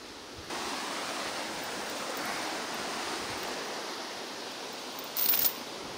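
Loud, steady broadband rush of high floodwater pouring through a rocky, boulder-lined creek, continuous and close, with a brief louder splash near the end.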